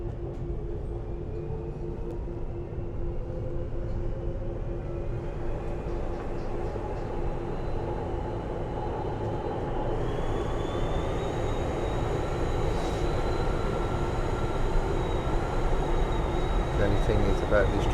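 A new DLR B23 stock light rail train rumbles steadily along the rails, close and continuous, with a high electric whine that slowly rises in pitch as it runs.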